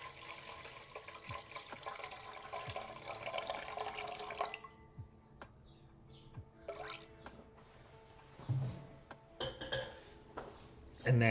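Tap water runs into a kitchen vessel while measuring 17 ounces for bread dough, a steady hiss for about four seconds that then stops, followed by a few clinks and drips.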